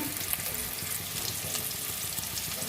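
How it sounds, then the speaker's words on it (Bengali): Potatoes fry in hot oil for a cauliflower and potato curry, giving a steady, close, dense sizzle with faint crackles and no talking. "আলুগুলো ভাজতে দিয়েছি"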